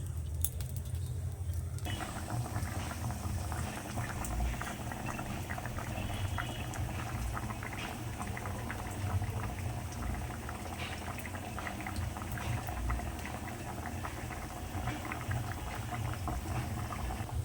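A taro and tangra fish curry boils in a pan with a steady bubbling, burbling simmer and fine crackles, close and continuous after a brief quieter start.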